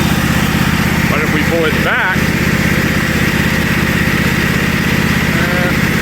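A Craftsman GT5000 riding mower engine idles loud and close with a steady, unbroken drone while the mower sits in neutral, and someone talks over it briefly.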